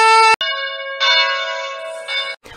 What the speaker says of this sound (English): we are going to light up a candle, sound the shofar, and ring the bell